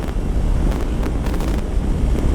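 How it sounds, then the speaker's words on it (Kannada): Strong wind buffets the microphone on an open highway between Bengaluru and Shimoga, a steady loud rumbling roar with gusty swells throughout and no voices. "ಇಲ್ಲಿ ಗಾಳಿ ಹೆಂಗೆ ಎಸಿತಾ ಇದೆ, ಕೈಯೆಲ್ಲ ಹಿಂದೆ."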